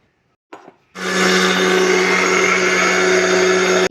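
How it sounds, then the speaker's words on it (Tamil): A mixer grinder jar grinding rock sugar into fine powder: after a short rattle, the motor starts loud and close with a steady, high whirring roar that holds evenly to the end, then cuts off. "கற்கண்டை எடுத்து மிக்சி ஜாரில் போட்டு நல்ல பொடியாக நைஸாக அரைக்க போகிறோம்"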